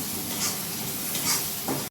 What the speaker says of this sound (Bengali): আর এটাকে ভালোভাবে কষাবো।